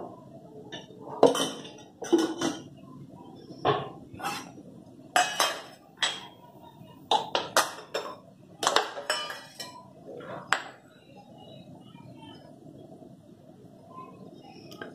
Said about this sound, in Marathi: एकसारखं हलवा, नाहीतरी शेवया खालचे करपतात.